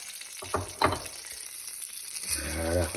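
Lamb shank searing in a pan with unpeeled garlic and honey, a soft sizzle that swells into louder, steady frying near the end, with a couple of brief clatters early on.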